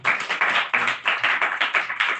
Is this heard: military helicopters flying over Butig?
no